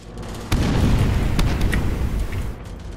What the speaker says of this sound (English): are those mortars?